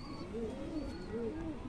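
A restless pigeon in a loft coos up close, a run of rounded, repeated coos in a quiet setting.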